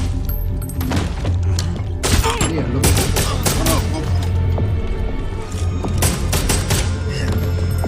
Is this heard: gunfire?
yes